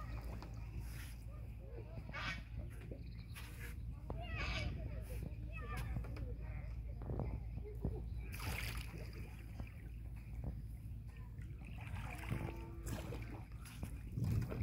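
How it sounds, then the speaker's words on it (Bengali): A wooden boat is rowed across the Titas river, with soft water splashes and paddle strokes close by under wind noise, while people talk over it. "তিতাস নদীতে আমরা এখন তিতাস নদীতে নৌকা বাইতেছি"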